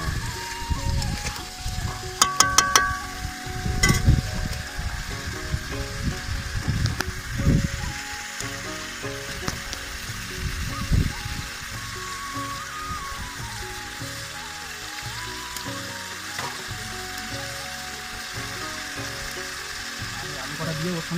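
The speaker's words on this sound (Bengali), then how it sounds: "তারপরে আলুটা দিয়ে আর একবার কষিয়ে নেবো একটু।" Potatoes and chili fry in a pan for a fish curry, giving a steady sizzle with stirring and clatter that is louder early on. A voice talks over it at times.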